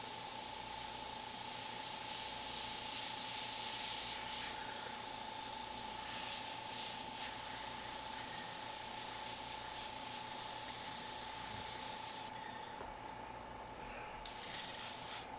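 An airbrush spraying paint gives a steady close hiss with a constant tonal whine underneath, pausing briefly near the end before the spray resumes.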